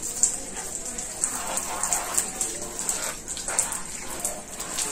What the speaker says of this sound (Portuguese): E logo em seguida é só passar o jato d'água